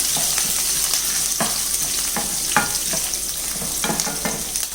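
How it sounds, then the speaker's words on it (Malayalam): Chopped garlic and green chilies sizzle in a hot pan for tomato rice, a continuous crackling fry broken by several clear spatula scrapes as the mixture is stirred, with no voices. "വെളുത്തുള്ളിയുടെ പച്ചമണം മാറുന്നവരൊന്ന് ഇളക്കി കൊടുക്കാം"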